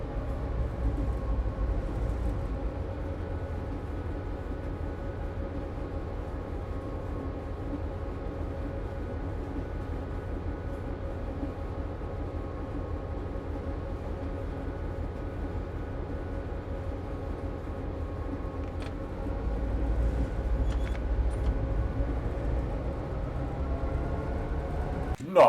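A Great Northern F7 diesel locomotive in Train Simulator 2021 drones steadily through Montana, a constant low engine rumble with layered tonal hum that swells slightly near the end.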